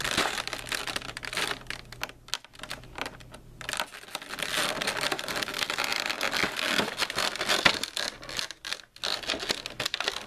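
Packing tape being peeled and torn off a Funko Pop box, making a continuous close crinkling and ripping of tape and cardboard with brief pauses, loud and without speech.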